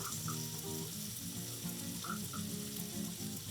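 Butter sizzling and crackling in a hot pan, a dense, close frying hiss that holds steady throughout with faint low bubbling underneath.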